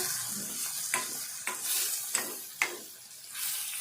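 Fenugreek leaves frying in a pan for a ridge gourd and moong dal curry, with a steady sizzle, close and moderately loud, broken by a few sharp scrapes and clinks from stirring.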